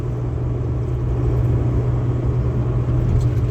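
A car engine droning steadily from inside the vehicle during a driving lesson, a constant low rumble and whir with no gaps or talk, close and fairly loud throughout.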